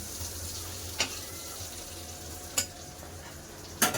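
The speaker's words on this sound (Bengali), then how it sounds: "বেগুনটা একটু লেড়ে দেবো আর একটু ভেজে নেবো" Eggplant fries in a pan with a soft steady sizzle, broken by three sharp scrapes of a spatula stirring the pieces at even intervals.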